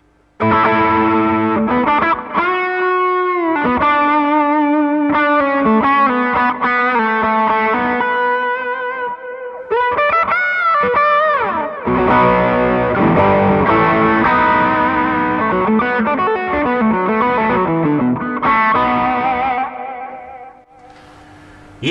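An electric guitar played through an Xotic BB Preamp overdrive pedal at high gain, thick distorted chords and sustained notes ringing out loudly with a warm, saturated tone, no voices.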